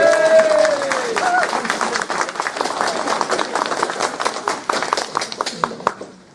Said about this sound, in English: Big cheer for David Duke.